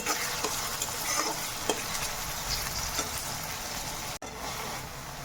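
Onion and tomato frying in hot oil for street-style egg bhurji, with a steady sizzle and close stirring scrapes that run throughout and a brief break near the end.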